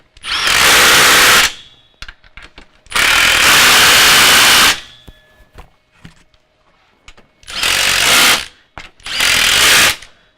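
A power tool tightens bolts on a Jeep Wrangler Defender kit in four loud, close bursts of whirring and rattling, each lasting a second or two. Brief clicks and handling noises fill the short pauses between bursts.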